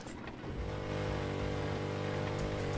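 A boat engine in the video game Rust runs at a steady drone that swells slightly after the first second, a loud, continuous mechanical hum with no talk.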